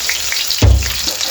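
Onions frying in a pan for pakora kadhi, browning lightly, with a continuous close sizzle and one dull thump of stirring partway through.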